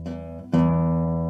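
A single guitar string rings with a steady sustained pitch during a lesson, then is plucked again partway through and rings on louder as the tuning peg is turned and tightened.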